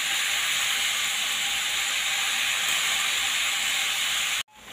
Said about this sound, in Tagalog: Niluto ko lang sa konting mantika.